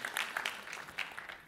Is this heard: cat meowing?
no